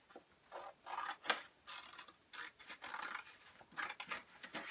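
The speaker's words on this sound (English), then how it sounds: "I'm going to take my scissors and I'm going to cut that out." Scissors snip and rasp through paper in irregular short bursts, with soft rustling and scraping of the sheet in between, close and quiet, no voices.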